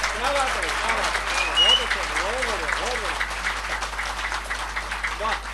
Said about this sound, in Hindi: इतने बढ़िया आपने तालियां बजाई।